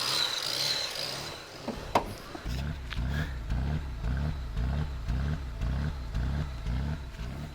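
An idling BMW 535xi wagon engine, started after a year unused, runs rough, chugging unevenly in a steady pulsing rhythm, close by, with a few clanks and rustles before it settles in.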